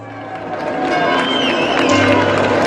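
A dense crowd in a square roars and cheers as Pope Leo XIV's popemobile arrives, a loud, continuous wall of voices and shouts that builds slightly and never lets up.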